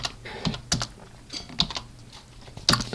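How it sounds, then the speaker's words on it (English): Keys clatter on a computer keyboard as a program is typed in at the TempleOS command line, irregular close clicks and taps in short bursts, with no voice. "is to type in a program at the command line"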